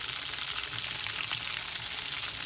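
Pieces of potato chip crusted Pacific cod fry in a pan, giving a steady, close sizzle with soft crackling bursts and no voices.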